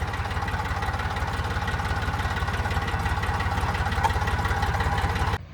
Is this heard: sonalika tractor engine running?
yes